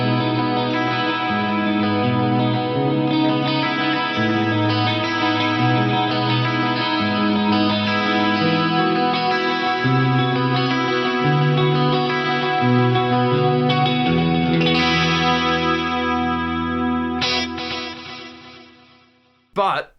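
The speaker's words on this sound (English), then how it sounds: "So it'll give us a little bit of a flanger vibe now." A Lexicon PCM81 chorus algorithm with feedback gives sustained notes a sweeping, flanger-like swirl that runs steadily and loudly, then fades near the end before a brief final burst.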